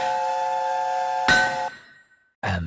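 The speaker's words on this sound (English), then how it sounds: "He was still whistling as the last deafened passenger left the station." A steam locomotive's whistle shrills steadily at full volume, then cuts off sharply into a fading hiss. After a brief silence, a short burst of steam follows.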